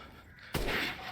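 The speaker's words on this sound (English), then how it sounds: "So we're gonna go ahead and snipe the shit out of them." A single sharp sniper rifle shot rings out in Resident Evil Village, a sudden loud crack followed by a lingering reverberant tail, alone with no talking.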